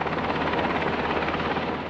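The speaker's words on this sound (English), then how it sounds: "We filmed this helicopter brought in by PG&E, removing sections of the dead pine tree suspected of hitting the company's power line." A helicopter hovers loud and close while removing sections of a dead pine tree suspected of hitting a PG&E power line, its rotor chop forming a dense, continuous roar.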